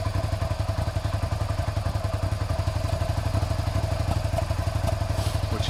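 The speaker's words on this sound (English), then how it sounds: "A little occasional misfire." Suzuki SV650 motorcycle engine idling steadily close by, a continuous low pulsing rumble with an uneven, slightly stumbling beat from an occasional misfire, heard alone without talk.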